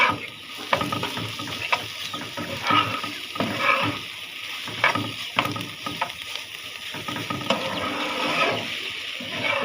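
Greens sizzle and hiss steadily in a hot pan while being stirred, with repeated scraping and clattering strokes throughout and no talking.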